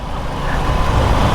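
Suzuki Gixxer motorcycle with a sputtering, blown exhaust heard from a distance, a steady rough rumble rising slightly in level and continuing throughout without any voices.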